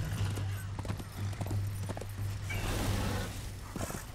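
Horse hooves in the Darksiders video game: a steady clip-clop of galloping under a constant low hum and game ambience, fairly quiet, with no talk.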